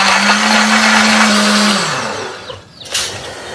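Blender grinds a spice paste of red chili, shallot, garlic, turmeric and candlenut, a loud steady whirring motor that drops in pitch and winds down before a short clatter.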